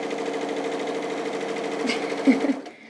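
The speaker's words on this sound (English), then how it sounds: "Well, fancy machine. I think I'm sewing the wrong bit now." A fancy 780 model sewing machine stitching the top part of a dress, giving a steady close mechanical hum and whir that slows and fades near the end, with a brief voice partway through.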